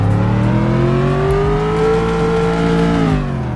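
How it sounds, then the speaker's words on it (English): A sports car engine in Roblox Greenville revs loud and close, holding a continuous, steady drone that swells slightly in pitch and then settles, with no talking. "Here's the revs."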